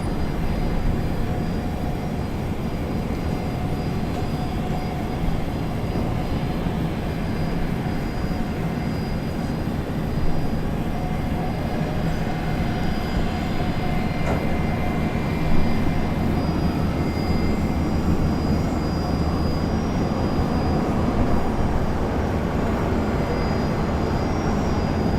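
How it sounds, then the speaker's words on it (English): A Fokker airliner pushing back and starting its engines at Brisbane Airport makes a steady, moderate jet hum with a thin high whine running through it, distant and unbroken for the whole stretch, with no voices. "That might be our first Fokker down there, just pushing back and starting up."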